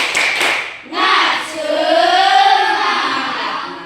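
A group in a classroom lesson does a rhythmic spirit clap: a short burst of quick hand claps, then voices chanting together in a sustained, tuneful call.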